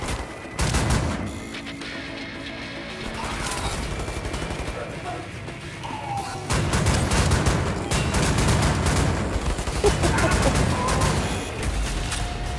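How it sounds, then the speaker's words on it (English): Dual-wielded shotguns blast over and over in Wolfenstein The New Order, loud and dense, with overlapping booms and gunfire packed throughout and a further surge of shots partway through. "This seems like a good time to dual wield some shotguns?"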